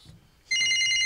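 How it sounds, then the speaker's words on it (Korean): An old-style telephone bell rings loudly after a brief quiet moment, a bright electronic trill in a comedy sketch. "전화벨 소리가 그게 뭐예요?"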